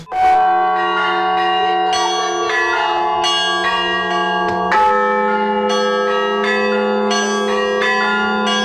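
Church bells ring loudly and continuously from a bell tower during Easter Bright Week, several bells overlapping in a rhythmic peal with strikes renewing the ringing every second or so.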